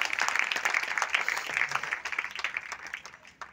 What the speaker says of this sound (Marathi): त्यांचं टाळ्या वाजवून आपण अभिनंदन केलं पाहिजे